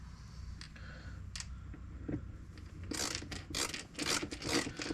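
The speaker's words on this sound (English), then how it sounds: "I kind of want to see how these are going to thread in here." Someone drives screws by hand with a screwdriver while installing an RMAX door pocket. The result is quiet, intermittent rubbing and rasping scrapes that grow into a quick run of gritty turns near the end.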